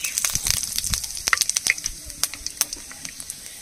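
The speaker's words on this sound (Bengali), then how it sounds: "তেলের মধ্যে দিয়ে দেবো 2 পিস শুকনো লঙ্কা, গোটা জিরা ফোড়ন দিয়ে দেবো।" Two dry red chillies and whole cumin seeds crackle in hot oil, a busy close sizzle with sharp pops that thin out toward the end.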